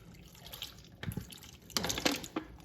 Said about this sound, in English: And then I am going to add some vinegar